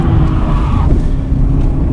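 A Subaru Impreza GDB engine roars loudly up close while drifting, pitch rising as it accelerates, with rough low rumble throughout.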